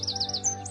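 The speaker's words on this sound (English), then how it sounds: "the only sound you can hear is the birds tweetering and twittering all over the place." Small birds in a spring garden give quick, high chirps, about five in a fast run, then a couple of longer tweets, close and clear over a faint steady background hum.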